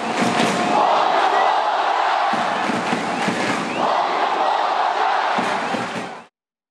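Ulsan football fans jeer coach Hong Myung-bo after a defeat, a dense, continuous roar of crowd noise that stays loud and steady for several seconds before cutting off abruptly.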